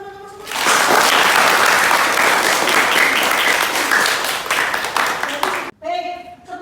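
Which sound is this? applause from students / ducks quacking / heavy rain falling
applause from students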